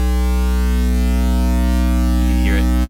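A synthesized sine-based tone built in Omnisphere holds a loud, steady low drone with stacked harmonics, while a brief wobbling higher sweep enters near the end before it cuts off abruptly.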